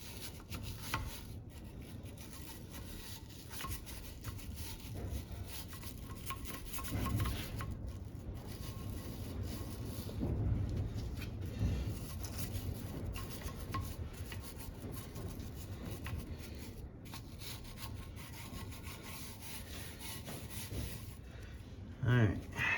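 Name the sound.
wire brush scrubbing rust off Chevy 350 V8 cylinder head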